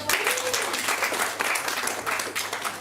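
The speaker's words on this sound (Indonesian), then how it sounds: "Boleh tepuk tangan lagi teman-teman." An audience at a parenting exhibition event breaks into lively, sustained applause, many hands clapping close and loud, with a few voices calling out over it.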